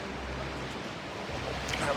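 River water rushing over rocks on a day hike at Cronin Ranch, a steady broadband wash of flowing current with some wind buffeting, continuous and fairly close, with no voices.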